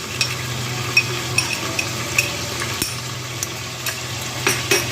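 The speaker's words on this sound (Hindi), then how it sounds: "अब मैं इसी में लहसुन अदरक का पेस्ट शामिल कर दूंगी और इसको अच्छे से भूनेंगे" Garlic ginger paste fries with mutton in a pot, giving a steady close sizzle under scattered light scraping and clinking from stirring.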